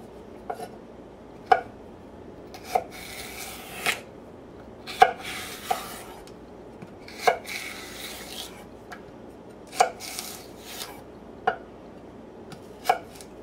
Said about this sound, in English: dicing up a couple of stalks of celery, an onion, and a clove or three of garlic